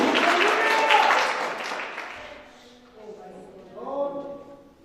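A church congregation breaks into hand clapping during a Sunday sermon. The loud burst of applause fades out after about two seconds, and a voice speaks over the tail.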